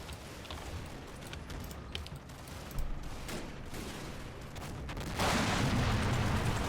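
Mortar rounds exploding along a main street in the video game Combat Mission, scattered dull thumps and crackling small-arms fire, with one sharper blast near the middle and a louder swell of noise toward the end.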